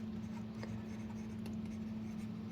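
Marker or chalk scratches across a board while the dimensions of an outer rectangle are worked out in a Class 6 maths lesson on perimeter and area; faint, steady strokes over a low room hum, with no talking.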